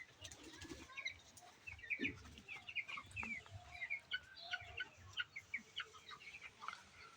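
Broiler chickens in a coop on a winter day give faint, scattered clucks and soft chirps, with some light rustling and occasional wing movement at a distance. The whole scene is quiet.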